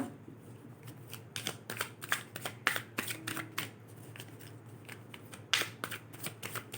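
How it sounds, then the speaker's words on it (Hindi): Tarot cards are shuffled up close in a love reading, a rapid run of crisp riffling flicks and snaps, with no one talking. "और जल्दी से हम शफल कर लेते हैं इन कार्ड्स को"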